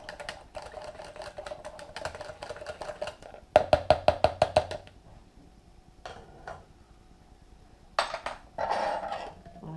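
Pie filling mixed with pesto in a bowl for a vegetable pie: a spoon scrapes and clinks against the bowl in quick rhythmic bursts, with a sharp run of close taps midway and softer stirring after, no talking.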